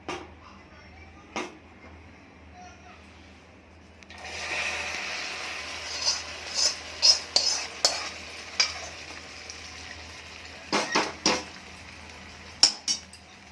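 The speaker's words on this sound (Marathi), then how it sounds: "व्यवस्थित मिक्स करून घ्यायची." A spoon stirs and mixes ingredients into freshly melted sugar in a pan just off the gas, scraping and clinking sharply against the metal in a loose rhythm over a soft sizzle, with no speech.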